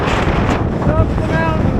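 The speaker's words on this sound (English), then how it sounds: "It's super windy." Strong gusting wind batters the microphone on a California mountaintop, producing a loud, continuous low rumble that fills the short stretch without letting up.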